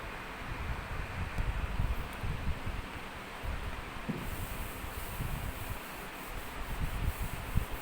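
A duster rubs writing off a classroom board, making a steady, continuous scrubbing rasp that runs close and unbroken with small swells in loudness.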